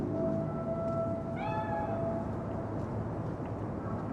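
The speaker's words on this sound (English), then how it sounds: "Chill, just a cat." A cat meows in the video game Cyberpunk 2077, one rising, wavering cry in the middle of the clip over a steady low ambient hum.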